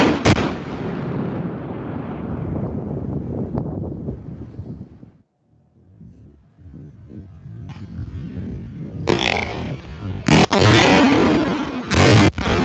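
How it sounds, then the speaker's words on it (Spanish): A loud, harsh burst of crackling from a 110-volt electrical short circuit arc fades to near silence, then sharp explosive bangs and crackles erupt again, close and violent, with no voices. "Aquí tenemos un cortocircuito en 110, obviamente con presencia de arco."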